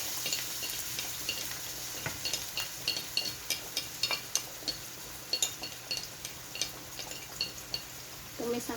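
Shallots and garlic sautéing in a pan with a steady sizzle, while a utensil stirs and scrapes in repeated clinking strokes throughout, close and clear.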